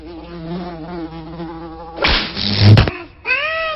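Mosquito buzzing sound effect for an anti-dengue campaign: a steady, harmonic-rich whine for about two seconds, cut by a loud broadband burst, then the whine returns with rising pitch.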